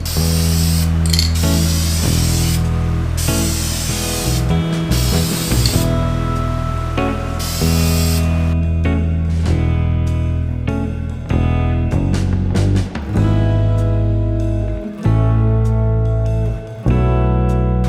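A color coat being spray painted onto a motorcycle fuel tank during a restoration, with loud, close, steady hissing bursts of aerosol spray that start and stop repeatedly, broken by short pauses and clicks.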